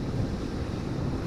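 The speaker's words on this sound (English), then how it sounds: "it's so windy." Strong wind roars steadily across the microphone on a beach at Hornsea during sea fishing, with a low, rumbling buffet and a faint wash of surf beneath, no voices.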